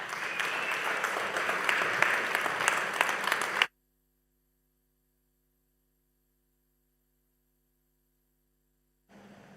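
An audience applauds at the end of a talk at a virtual launch event, a dense burst of clapping lasting a few seconds before cutting abruptly to near silence with only a faint electrical hum.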